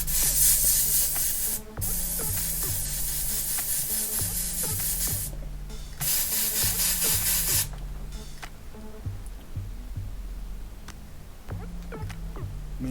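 A Badger Anthem airbrush fitted with a 0.5 millimeter needle sprays paint in a steady close hiss, broken by short pauses and surging louder in bursts, with a faint rhythmic hum underneath.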